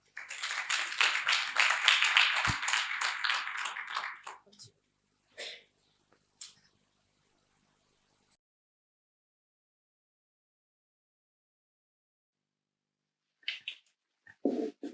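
An audience at a finance-sector afterwork event applauds as the next speaker is introduced, a dense burst of clapping lasting about four seconds before tapering off into near silence, with a few faint knocks and rustles afterward.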